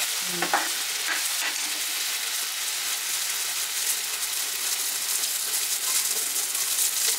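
Butter with chilli powder, turmeric and coriander powder sizzling in a pan for pav bhaji, a steady broadband fry hiss with occasional stirring scrapes, fairly close and continuous with no talk.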